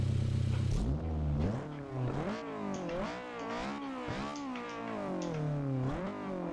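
The B20 VTEC engine of a Honda Civic EJ6 revs up and down several times in smooth rising and falling sweeps. The sound is steady and moderately loud, with no talking.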